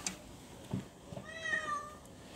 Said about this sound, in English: This is Jacob's cat Winston meowing